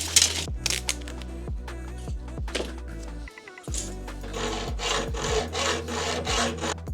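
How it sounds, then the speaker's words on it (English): Hacksaw cutting aluminium L-track during a camper van build, a series of rhythmic rasping strokes, close and loud, with a brief pause partway through before the sawing resumes. "I just find that the hacksaw is the best tool for this job."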